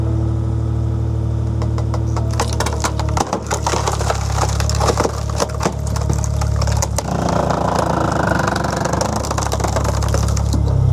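A skid steer powers a Wolfe Ridge SS282 12-way wedge splitter through a stack of wood rounds. The engine drones steadily and loudly while sharp cracks, splintering and crunching break out repeatedly as the wood splits apart.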